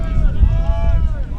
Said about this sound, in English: Wind really gusting here.